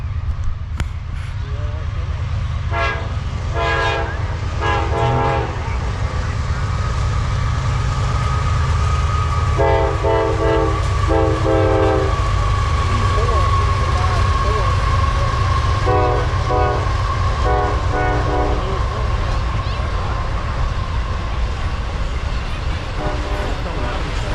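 A train rumbles past steadily, its horn sounding in several repeated blasts over the continuous low roar of the rail cars.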